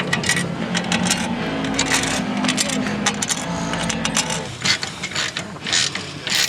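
Rapid metallic ratcheting as bolts and nylon locking nuts with washers are tightened, quick clicking runs close up, continuous with small pauses and rattles near the end.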